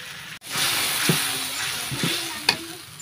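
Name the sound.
frying spices with fish on a clay stove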